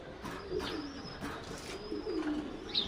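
A pair of Jaafar pigeons gives several soft, low cooing calls in short throaty bursts, close by, with light rustling and faint background noise between the coos.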